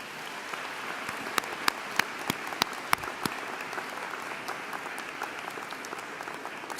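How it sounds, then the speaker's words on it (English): An audience claps for faculty and staff standing at a university convocation, a sustained spread of applause with scattered crisp claps that thins out toward the end, at a moderate level with no talk. "You can give them a round of applause real quick"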